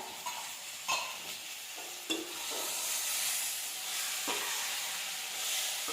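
Chili powder being stirred into tamarind kuzhambu in a pan, a steady close sizzling hiss broken by a few sharp scraping strokes of the spoon, with no voices.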